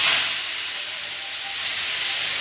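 Red amaranth leaves hitting a hot pan give off a steady, loud hiss of steam and sizzle, broad and constant without a break, with no voices.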